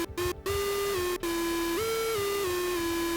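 A Moog Mother-32 analog synthesizer plays a sustained buzzy monophonic tone from its built-in keypad buttons. The pitch steps up and back down a few times, with short gaps between the first notes, and no voices.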